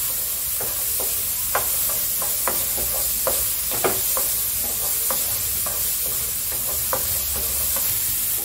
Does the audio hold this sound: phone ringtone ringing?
no